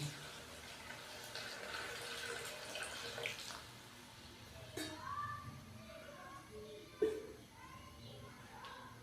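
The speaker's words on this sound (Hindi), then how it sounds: "अभी हम इसके अंदर पानी डालेंगे।" Water pours steadily into a pot of pulao with green chana, a soft continuous rushing with a few clinks and splashes, close by, with faint background noise.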